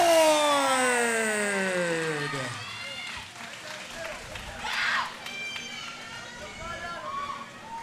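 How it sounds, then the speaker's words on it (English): Wild crowd roaring and cheering at a Premier MMA Championship 9 women's fight, a loud swell of cheers under a ring announcer's voice that fades into a steadier crowd murmur. "Wild crowd here at Premier MMA Championship 9."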